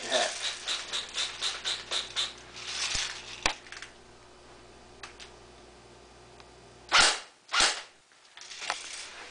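A JG Swiss Arms Sig 552 airsoft rifle fires a quick string of about nine sharp close shots, followed after a pause by a few isolated louder cracks.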